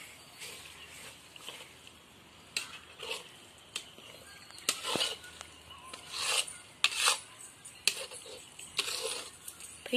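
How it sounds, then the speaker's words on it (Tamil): A spoon rasps and scrapes around a pot of simmering goat intestine gravy, in uneven strokes with scattered metallic clinks, close and moderately loud over a faint background hiss. "கிண்டி விட்டுருக்கணும் அடி பிடிக்காமல்"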